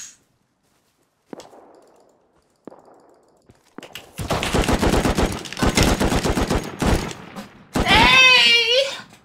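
Gunfire in the survival game Rust: a few faint isolated shots, then loud rapid automatic bursts. It ends with a voice shouting over the final burst.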